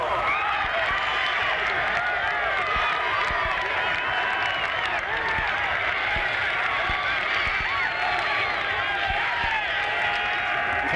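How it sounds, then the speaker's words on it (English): A football crowd at a Phoebus Phantoms versus Wilson Presidents game roars and cheers after a touchdown, a loud sustained wall of voices and clapping across the stadium. "Woo! Listen to that crowd."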